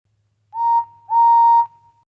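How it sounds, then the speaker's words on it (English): A guard's whistle on an HO/OO model railway sounds a clear, steady tone in two blasts, a short one and then a longer one, alone against a faint low hum. "Oh, that's my guard's whistle."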